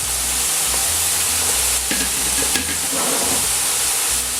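Beef sizzles loudly in a hot frying pan, a dense continuous hiss of frying with occasional stirring scrapes, heard up close with no talking.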